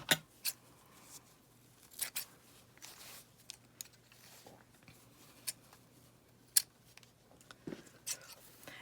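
Scissors snip through ribbon in a series of short, quiet, crisp clicks at irregular intervals against a very still background, each cut a sharp metallic snap.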